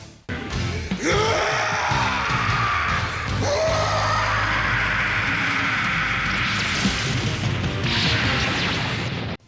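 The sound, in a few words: anime character screaming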